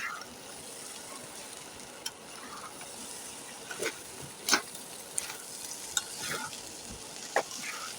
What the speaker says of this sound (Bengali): আর এখন চুলার আঁচটা একদম লো করে দেব আর ভালো করে নেড়ে চেড়ে মিশিয়ে নেব